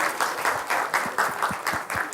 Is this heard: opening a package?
no